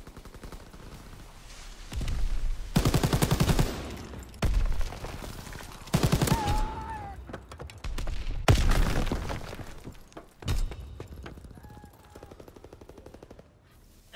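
Strafing run by a fighter plane in a video game, several loud bursts of rapid automatic gunfire separated by short gaps, with brief whistling tones between some bursts.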